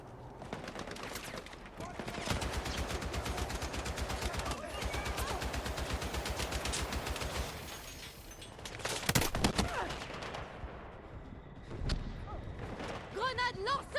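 Mounted machine gun in the shooter game Battlefield 6 rattles in long, rapid, sustained bursts, loud and dense, with other gunfire and thuds around it and a voice talking over the action.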